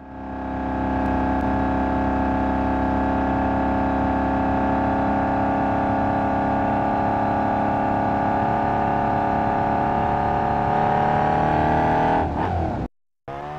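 Race car engine in a racing video game, a loud sustained roar that climbs steadily in pitch as it accelerates, with dense engine harmonics, then a sudden brief cutoff near the end.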